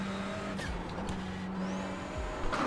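A touring car engine in the iRacing video game drones steadily at high revs at the Magny-Cours circuit, with a brief shift midway and a faint tire squeal; no talking.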